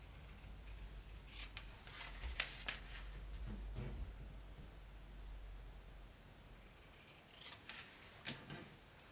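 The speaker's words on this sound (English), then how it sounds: "I'm going to simply clip and cut those corners." Scissors snipping the corners of fabric for a zippered coin pouch, a few quick clusters of crisp cutting snips with quiet rustling between them, close and soft.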